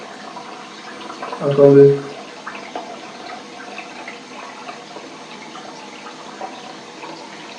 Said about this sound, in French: Je vais rincer ça.